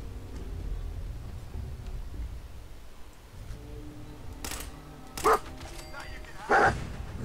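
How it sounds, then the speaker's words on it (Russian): A dog in the video game Fallout 4 barks in two short, sharp bursts near the end, over steady game ambience and someone talking throughout. "Собака, давай гавкать, привлекать внимание."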